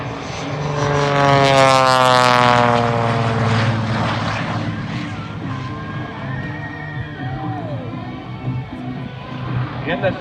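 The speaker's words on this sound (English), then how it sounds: "Let's watch now as he pulls the throttle back just a little bit, stopping that airplane more or less in one spot in the sky." A propeller aerobatic airplane at an airshow drones loudly overhead, its engine pitch sliding down as the throttle eases back to hover almost in place, while a commentator talks over it.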